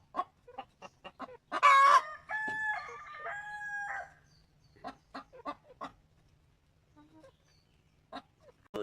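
A mother hen near her nest clucks and crows in short sharp calls, with a long drawn-out squawking stretch early on, followed by scattered clucks and faint chicken sounds close by.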